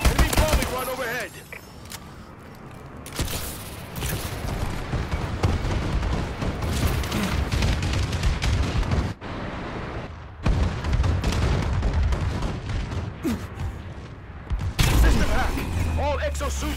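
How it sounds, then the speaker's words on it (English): Video game combat in Call of Duty Advanced Warfare online team deathmatch, with a dense stretch of explosions and gunfire from an enemy bombing run, punctuated by brief quiet gaps and sudden loud bursts. "Enemy bombing run overhead!"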